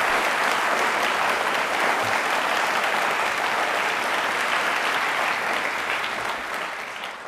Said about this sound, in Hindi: एक बार जोरदार तालियां हम सभी के लिए वापस होनी चाहिए